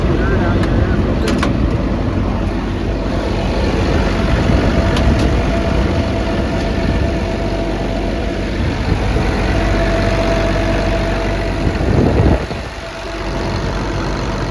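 A 2017 XCMG 210 excavator engine runs steadily at idle with a constant low rumble, close and loud, with a brief dip near the end.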